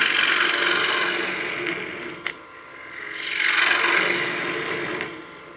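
A bowl gouge cuts into wood spinning on a lathe while a utility box is turned, giving a steady rasping scrape that swells and fades in two long passes, close and alone.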